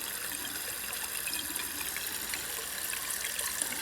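A 1980 Eljer Emblem toilet bowl fills with water from the fill valve, a steady hissing trickle and rush that runs unbroken at moderate volume, with no voices.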